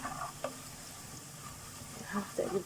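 Onions fry in hot oil in a pan with a soft sizzle, broken by scraping and knocking as a spoon stirs them, while a voice talks quietly over the cooking.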